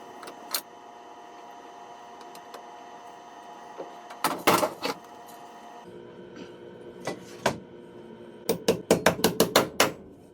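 Three-inch nails being hammered into a triple joist during structural work on an 1850s farmhouse: scattered sharp blows, then a quick run of about seven strikes near the end, over a faint hum.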